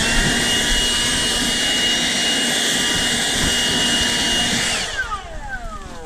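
An air blower roars loudly and steadily while blowing dirt out of a car or truck interior, then spins down near the end with a falling whine.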